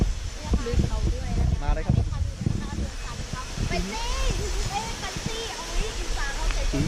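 Rushing water of a jungle waterfall near a village in Keng Tung, a continuous steady wash in the background while people chatter and talk over it throughout.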